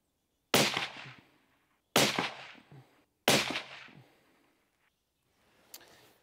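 Three sharp, close rifle shots from a .17 HMR at a target range, evenly spaced, each with a short decaying tail, followed by a faint click and rustle.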